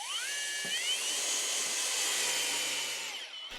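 Power drill driving hinge screws into a restored 1700s table, a steady high whirring whine that holds for a few seconds, close and fairly even before cutting off.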